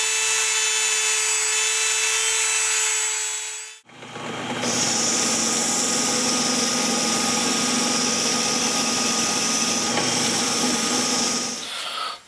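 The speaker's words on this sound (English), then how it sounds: "I'm going to use a Dremel on high speed with a wire brush on the end" A Dremel at high speed with a wire brush polishes a metal rocker-arm collar, giving a continuous loud, high-pitched whine. It cuts out briefly near four seconds, then spins back up and runs steadily to the end.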